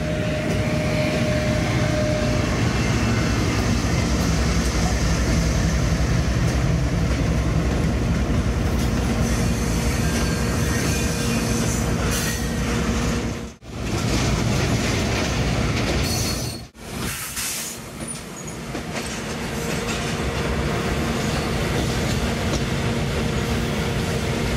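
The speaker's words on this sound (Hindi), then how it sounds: "ट्रेन तो पास हो गई यहाँ से आपकी" A goods train rolls past on the railway near Mairapur, a loud continuous rumble of wagons and wheels close by for the whole stretch, with brief dips in the noise as gaps between cars pass.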